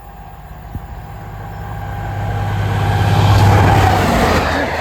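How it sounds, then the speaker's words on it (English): A Class 57 locomotive on a rail tour from London King's Cross to Berwick upon Tweed approaches a level crossing, a low engine drone and wheel rumble swelling louder and nearer over several seconds, with no voices. "Next service pass through is a Class 866 rail tour from London King's Cross"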